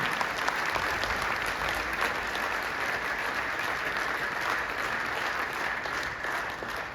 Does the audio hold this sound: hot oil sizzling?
no